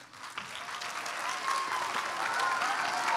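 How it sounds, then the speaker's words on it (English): A school audience claps after an elementary fourth and fifth grade stage performance, steady applause that swells and holds, filling the room. "You guys can all give yourself a round of applause."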